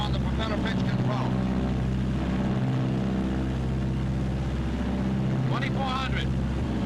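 Twin radial engines of a Martin B-26 Marauder throttling back to normal rated power after takeoff, a loud, steady cockpit drone that fills the whole stretch, with a voice speaking over it.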